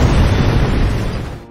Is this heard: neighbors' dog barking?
no